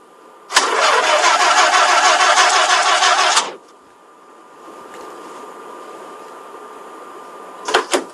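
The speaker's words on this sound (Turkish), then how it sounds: "Arabayı ben çalıştıracağım." A car engine in a video game cranks and catches with a loud, steady roar for about three seconds, cuts off, then a quieter idle hum follows before two brief bursts near the end.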